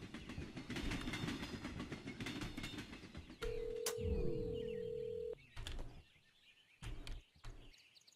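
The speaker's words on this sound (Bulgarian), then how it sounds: "Пак това влакче се активира." A toy train running in the video game Hello Neighbor, heard as a loud mechanical rattle and steady whistle-like tone over game noise, followed by a few short clanks as it stops.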